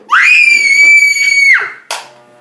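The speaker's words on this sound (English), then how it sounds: "Stop yelling at me." A young boy screams loudly in one long, high, sustained yell with a brief sharp cry after it, during a home taper haircut given by his mother.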